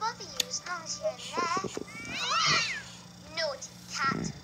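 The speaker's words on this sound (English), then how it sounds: "Naughty cat. You're going outside." Cat meowing in an animated fairy film, several drawn-out meows and cries mixed with people talking, fairly close and moderately loud.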